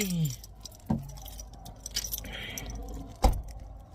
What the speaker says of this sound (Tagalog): Kukunin ko yung susi ng water truck.